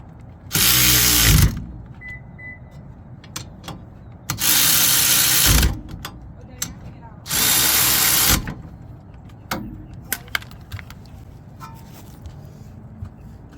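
Cordless ratchet tightening the rear wheel hub on a 2018 Toyota Camry, three loud, close whirring bursts of one to two seconds each, separated by quiet gaps with small clicks and clanks of tools.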